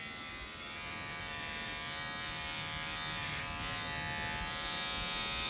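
Electric hair clippers buzz steadily and close up for the whole stretch during a self haircut, a continuous motor whine with no speech over it.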